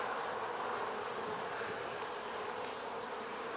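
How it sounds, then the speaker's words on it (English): Honey bees buzzing inside an open beehive during an autumn inspection, a dense, steady drone of many wings that holds at an even loudness throughout, close up and without any talk. "they're buzzing around"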